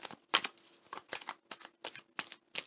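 Tarot cards shuffled in bursts, about eight crisp riffling flurries at an irregular rhythm, close and fairly quiet with near silence between them.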